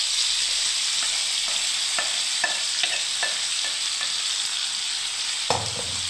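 Pointed gourd coated in poppy seed and mustard paste fries in a pan with a loud, steady sizzle, broken by soft scraping taps of stirring and no voices.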